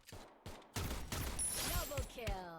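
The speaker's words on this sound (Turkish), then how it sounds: "Soldan sıkan birileri var." Gunfire in the Free Fire battle game: two separate shots, then a dense burst of rapid automatic fire, with faint chatter and ringing tones mixed in.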